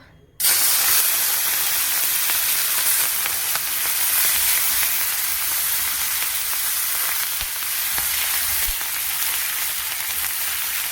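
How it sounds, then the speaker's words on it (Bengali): Shrimp drop into very hot oil and burst into a loud, bright sizzle that holds steady and close, a dense frying hiss with no voices. "চিংড়ি মাছ ফেলে দিয়েছি, চিংড়ি মাছটা একটু ভেজে নিচ্ছি।"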